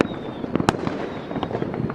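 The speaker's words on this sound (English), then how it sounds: "fireworks are totally drowning us out" Fireworks go off outside in a dense string of pops and sharp bangs, one louder crack among them, over a constant rumbling background.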